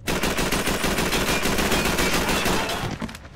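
Dense, loud gunfire from Call of Duty 3 on the Fuel Plant level, a nonstop rattle of rapid shots for about three seconds before it thins out at the end.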